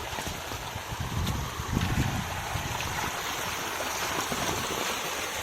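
Steady broadband rush of a stream carrying runoff water from farm fields, running nearby, with some wind buffeting the microphone.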